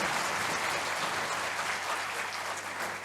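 An audience at a talk claps together in support, giving dense, steady applause from many hands at a moderate, even level throughout.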